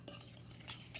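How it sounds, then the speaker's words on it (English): A fork in a bowl of brown sugar and melted butter gives soft, quiet clinks and scrapes in a few quick strokes as the clumps are mashed and mixed. "just take your fork or your whisk and just smash those down and keep mixing until they've all come together"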